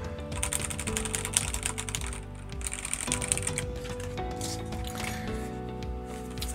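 Typing on a Redragon K631 Castor Pro keyboard: a rapid, clattering run of key presses, close and fairly loud, layered over steady tonal background music.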